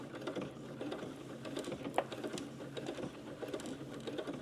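Sewing machine stitching slowly along the hem of a fabric grocery bag, a close, steady mechanical whirring and rapid needle ticking with small uneven bumps as the cloth is guided.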